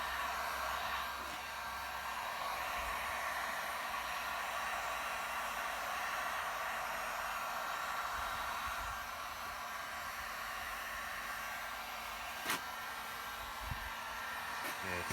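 Hot air is blown onto bent dirt bike plastic to reshape it, making a steady, soft, hissing rush that carries on without a break, with a couple of faint knocks near the end.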